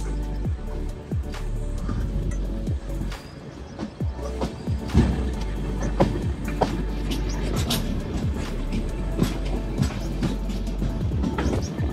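The Ernakulam Superfast train runs along the Konkan route, with a continuous rumbling rattle and repeated clacks of wheels over rail joints, heard from inside the moving coach at a fairly loud, steady level.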